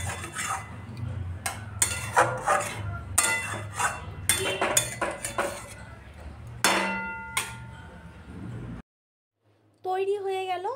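Ghee is stirred into a finished rui fish tel jhal curry in a pan, giving repeated scraping clinks of a utensil against the metal, with a voice speaking through it and a brief silent gap near the end.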